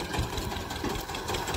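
An Eicher 241 tractor runs with a reaper machine cutting wheat, giving a steady, dense mechanical clatter and engine drone that continues throughout without pause.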